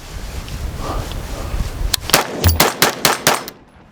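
A Gen 3 BRN180 rifle fires unsuppressed through a compensator, a rapid string of about six loud, sharp, close-range shots at an even pace that ends abruptly.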